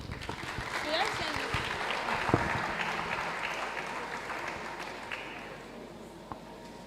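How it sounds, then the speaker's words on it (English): A crowd applauds steadily for several seconds, a dense wash of clapping that slowly fades toward the end. "A round of applause for him again."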